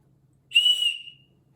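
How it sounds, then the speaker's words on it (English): Spare survival whistle from an ESEE 6 knife kit gives a single short, shrill blast lasting about half a second, close and clear against silence. "you have a spare whistle."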